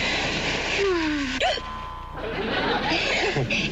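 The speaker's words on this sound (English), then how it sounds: "It's just a hiccup." A single loud hiccup rises out of quiet bedroom chatter between a couple, a short sharp vocal jolt followed by brief laughter and talk.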